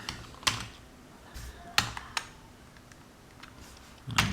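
Sparse keystrokes tapped on a computer keyboard while writing Java code, a few isolated clicks and short bursts with quiet pauses between, ending in a quick flurry of typing.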